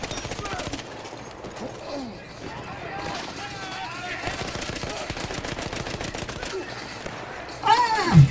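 Rapid bursts of gunfire from Battlefield 1 run almost nonstop, the shots crackling in dense volleys with a sharp, louder burst near the end, while a player's voice comes and goes over the shooting.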